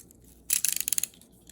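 Scissors cutting out a paper picture: a quick run of close, crisp snipping clicks lasting under a second, fairly faint in a quiet room.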